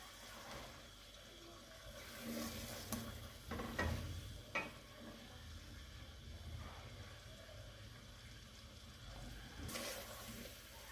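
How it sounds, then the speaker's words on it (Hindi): Potatoes fry in masala in a pan and are stirred, giving a quiet, steady sizzle broken by a few sharp scraping stirs and clinks, with no talking. "आलू को मैं 10 से 15 मिनट भूनूंगी इसमें मसाले में"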